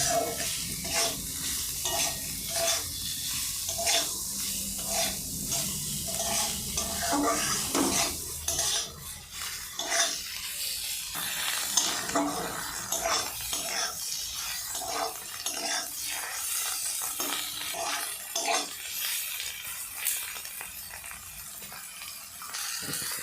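Turmeric and coriander powder mixed and slowly fried for a Bengali egg curry, with repeated spatula scrapes and clinks against the pan over a low sizzle, steady and close throughout, no talking.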